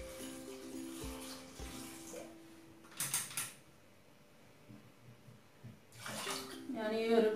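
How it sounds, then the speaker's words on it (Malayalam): Water from a glass is poured into a cooking pot of jackfruit-seed curry in a home kitchen, giving short splashing bursts over a quiet background with a low hum and occasional knocks. "ഇതിലേക്ക് ഞാൻ എടുത്തു വെച്ച വെള്ളം ചേർത്ത് കൊടുക്കുകയാണ്"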